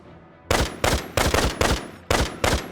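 Bursts of automatic gunfire from the video game Valkyria Revolution, about seven sharp, loud volleys in quick succession after a brief quiet start, with no talking.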